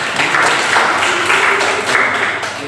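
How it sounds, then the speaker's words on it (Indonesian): Schoolchildren clapping in a classroom, a steady dense patter of applause filling the whole moment at close range, with a little background voice mixed in. "Iya, terima kasih tepuk tangan."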